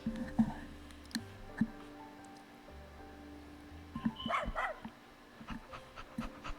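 A dog gives a few short, soft barks and whimpering yips at a moderate distance, scattered over a low steady background hum, with no talking.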